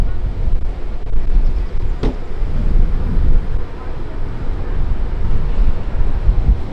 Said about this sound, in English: it's a little windy, so it makes it feel a little bit cooler